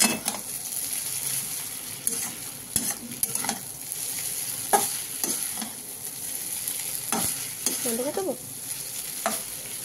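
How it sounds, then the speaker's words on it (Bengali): Egg Maggi noodles being stirred as they fry in a pan, with a continuous close sizzle and repeated sharp scrapes and clinks of the utensil against the pan, no voices. "এবার আমি ডিমটা দিয়ে দিলাম। এবার এটাকে মিক্স করিয়ে নিই"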